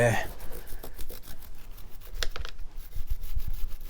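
Oil being rubbed into a motorcycle chain gives soft, irregular scrubbing and brushing strokes, close and fairly quiet, mixed with a voice speaking.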